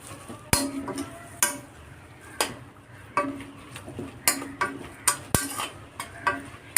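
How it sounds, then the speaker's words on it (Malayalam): Drumstick pods and moringa leaves stirred in a pan, with a spatula scraping and clacking against the metal in a regular rhythm of roughly one stroke per second over a faint sizzle. "ഇനി രണ്ടും കൂടിയിട്ട് മിക്സ് ചെയ്ത് കൊടുക്കാം."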